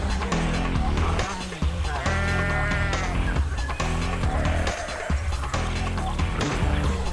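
Sheep bleat repeatedly amid a noisy, cluttered scene in the Australian wild as a predator attacks from behind, with wavering cries rising over thumps and commotion, close and fairly loud.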